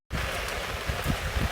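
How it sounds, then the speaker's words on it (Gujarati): Steady rain falls outdoors, a continuous dense hiss of drops on surfaces with occasional louder spatters, filling the clip from start to finish with no voices. "વરસાદ આવે."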